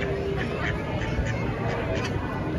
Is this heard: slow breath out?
no